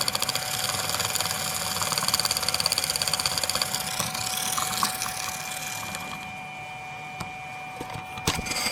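A small homemade copper induction rotor turns in a rotating magnetic field driven at about 30 hertz, giving a close, steady buzzing hum with a fast rhythmic pulsing. It quiets in the last seconds, broken by a few sharp clicks.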